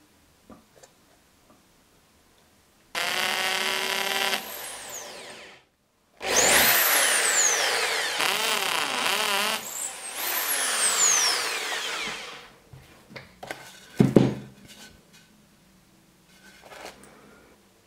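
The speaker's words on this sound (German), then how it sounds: "werde jetzt mit der Bohrmaschine da Löcher reinbohren" Power drill boring holes into wood for a macrame plant hanger: several whirring bursts that rise and fall in pitch as the motor spins up and down, separated by pauses and small handling knocks.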